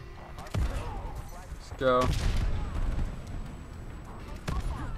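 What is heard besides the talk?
strafe run airstrike killstreak in a Call of Duty video game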